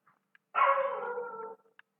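A dog gives one sustained, whining bark of about a second in a quiet room, preceded and followed by faint small clicks, with no talk over it.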